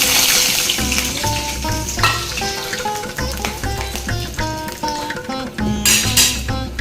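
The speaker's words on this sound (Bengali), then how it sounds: "কড়াইয়ে দিয়ে দিচ্ছি সব গরম মশলাগুলো" Whole garam masala spices fry in a kadai, a steady loud sizzle and crackle running throughout under a continuous layer of music, with no talking.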